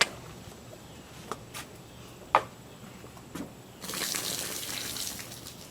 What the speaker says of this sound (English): Go ahead and dump the water out.